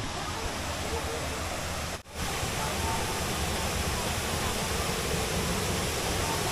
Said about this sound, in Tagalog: Kalisang Falls!